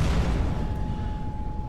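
Dull, sustained rumbling blast in the video game Mirror's Edge Catalyst, a heavy low roar holding steady for a moment without a sharp onset, under a faint steady tone and no talk.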